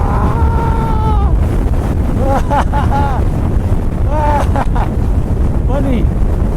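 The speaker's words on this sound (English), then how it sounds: "Whoa, windy, blowing me. Freaking windy." Heavy wind buffets the microphone with a constant roar while a man riding a Kawasaki Z900 RS motorcycle cries out in short bursts over it.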